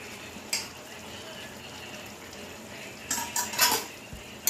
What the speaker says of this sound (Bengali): নারকেলটা দিয়ে একটু নাড়বো